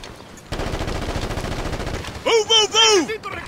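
Bursts of automatic gunfire in the video game Ghost Recon Advanced Warfighter 2, a rapid rattling stream followed by radio-style voices shouting over it.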